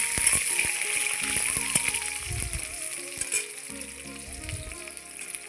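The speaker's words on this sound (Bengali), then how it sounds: "এখন ওই তেলেই আমি দিচ্ছি একটু পাঁচ ফোড়ন পাঁচ ফোড়ন দিয়ে একটু নেড়ে চেড়ে নিয়ে আলু ছেড়ে দিচ্ছি" Potatoes sizzle and crackle in hot oil seasoned with panch phoron, a bright, steady frying hiss close up, with occasional stirring clatter and a soft voice talking underneath.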